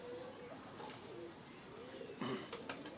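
Soft, low pigeon coos repeat nearby against a quiet background, with a few faint chirps from other birds.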